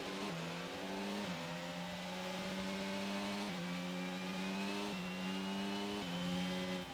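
A Formula 1 race car engine in the F1 22 racing game, running with a faulty turbocharger, howls through rising revs with repeated gear shifts. It is steady, fairly faint, with no talk.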